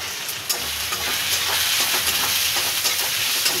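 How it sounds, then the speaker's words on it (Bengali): Spices for a small bhetki fish curry sizzle and hiss as they are stirred and fried in a hot pan, a dense, steady crackle with soft scraping pulses from the stirring. "নাড়াচাড়া করে কষে নেব"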